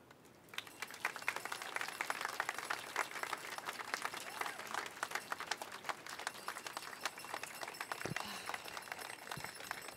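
Sustained audience applause with cheering for the Toronto Gay Men's Chorus at an outdoor Pride Month flag raising, dense and steady for about eight seconds before thinning out.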